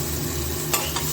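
Boiled jackfruit seeds are tossed in a little oil in a pan, giving a brief steady sizzle with a couple of quick scraping swishes toward the end.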